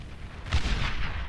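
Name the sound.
chain explosions in the video game Beyond All Reason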